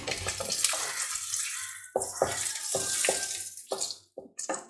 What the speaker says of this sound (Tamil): இப்போ கடுகு நல்லா வந்து பொரிய ஆரம்பிச்சிச்சு